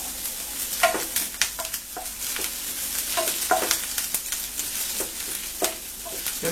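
Sliced garlic and green chili fry in oil in a pan, a close continuous sizzle with repeated scraping taps from stirring.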